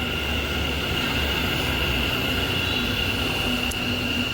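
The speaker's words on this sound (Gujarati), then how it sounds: "હવે આપણી મેટ્રો આવી ગઈ" An Ahmedabad metro train pulls into a station with a continuous loud rumble and steady whine, mechanical tones holding throughout, and no voices.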